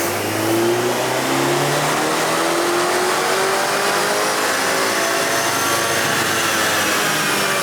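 A tuned BMW 330i with a B48 engine, running a competition intake, revs hard on a dyno, a loud continuous close-up engine roar climbing steadily in pitch through the gears with no talk.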